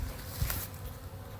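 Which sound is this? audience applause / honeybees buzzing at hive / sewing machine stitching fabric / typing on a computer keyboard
honeybees buzzing at hive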